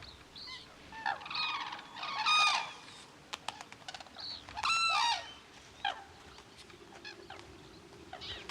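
At a feeding spot in Hokkaido, Japan, a white-tailed sea eagle joins a group of crows. Harsh, nasal bird calls come in several separate bursts, some loud and close, over a quiet outdoor background.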